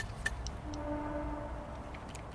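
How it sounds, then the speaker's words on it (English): A distant train horn sounds in a long, steady tone over a low rumble of rail noise, faint and far off amid woodland ambience. "That's just a train."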